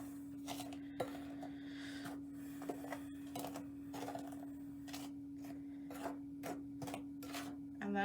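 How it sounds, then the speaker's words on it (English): A playdough mixture is stirred in a bowl, giving scattered scraping and tapping knocks of a utensil against the bowl, fairly quiet and irregular, over a steady electrical hum. "Stir this real quick. We're gonna stir this together."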